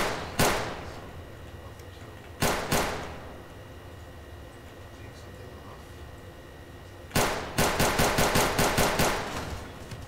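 Gunshots from the ragdoll sandbox game People Playground: two single sharp shots a couple of seconds apart, then a rapid volley of about eight shots in quick succession, loud and close over a quiet background.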